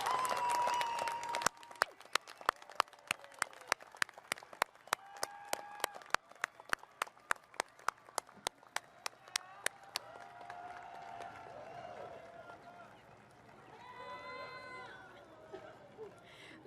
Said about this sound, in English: give those standing here and watching online a deserved round of applause and thanks